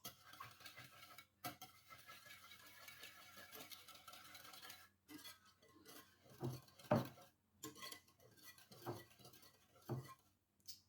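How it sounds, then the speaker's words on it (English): A whisk beats eggs and buttermilk for pancake batter in a bowl, giving quick, close scraping and clinking strokes in uneven bursts with brief pauses. "So I'm using a whisk, and I'm going to beat them up together."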